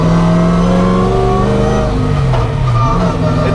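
A Corvette C6 drift car's engine revs loud and close, with rising and falling pitch sweeps over a steady rumble, heard from inside the cabin.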